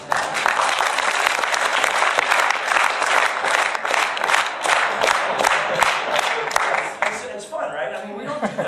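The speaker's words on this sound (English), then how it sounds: "they would clap in unison" A large lecture-hall audience claps together in a dense, steady wave of applause that stays loud and continuous, with a few cheers, then thins out near the end.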